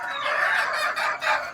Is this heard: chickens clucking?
yes